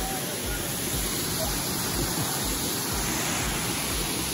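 A waterfall at a South Carolina swimming hole gives a constant broadband rush of falling water, steady and fairly close, with no clear voices over it.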